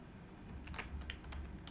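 A computer keyboard being typed on while entering a job name in QuickBooks, a short run of faint, close keystroke clicks in a quiet room with no talking.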